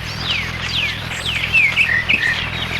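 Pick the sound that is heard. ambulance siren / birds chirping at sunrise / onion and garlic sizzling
birds chirping at sunrise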